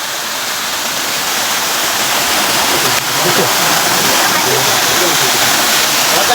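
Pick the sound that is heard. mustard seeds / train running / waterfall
waterfall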